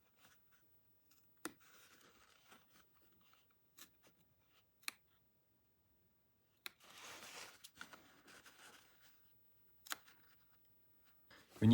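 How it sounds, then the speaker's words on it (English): Scissors cut open an oilskin fabric pouch, giving faint, intermittent snips and rustles with sharp clicks, separated by quiet gaps in a very quiet room. "Now you're going to have to cut it open, and on the edges cut until here in the middle."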